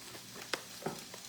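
Peppers sizzling in a frying pan while being stirred for a taco pizza, a quiet frying hiss broken by a few sharp clicks and scrapes of the utensil.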